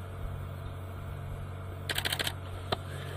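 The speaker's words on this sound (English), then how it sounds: "So if you hear that clicking, sorry, that's just my camera." A camera shutter fires in a quick burst of several clicks, then one lone click, heard faintly over a low steady hum on an outdoor safari drive near an airstrip.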